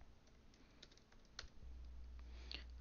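Computer keyboard typing while writing code, a steady run of quiet, close key clicks with a low hum joining partway through.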